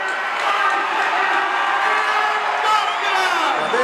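A packed arena crowd at a 1982 pro wrestling match roars in approval for Mil Mascaras, a dense sustained cheer filling the whole space, with a commentator's voice talking over it.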